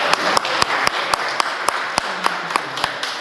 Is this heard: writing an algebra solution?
no